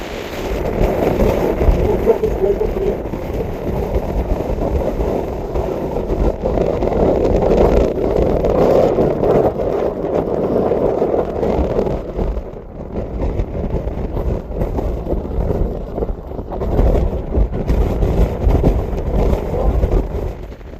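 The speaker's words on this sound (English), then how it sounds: "It is very windy" Strong wind on the summit of Pendle Hill buffets the microphone in loud, gusty rumbles that rise and fall, easing briefly midway before surging again, with faint talk mixed in.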